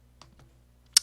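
A single sharp computer mouse click at a desk, preceded by a couple of faint soft ticks in near silence.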